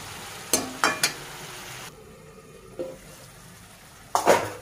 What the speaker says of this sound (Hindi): टमाटर उसको अच्छे से मसाले साथ भूनेंगे 5 मिनट, ताकि टमाटर अच्छे से गल जाए